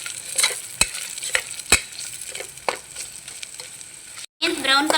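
Onions frying in a pan for tomato rice, stirred with a spatula: a steady close sizzle with sharp scraping strokes at intervals, then a short silent gap before the frying resumes louder.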